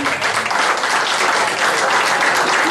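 An audience at a Tea Party gathering in East Jersey applauds a speaker, giving dense, steady clapping that is loud and close and fills the whole moment without any talk over it.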